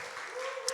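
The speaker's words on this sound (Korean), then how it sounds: "우리 친구들 잘했다고 박수해 주시길" A church congregation applauds children at a Wednesday service, a steady wash of clapping from a crowd throughout the short moment with a faint tone underneath.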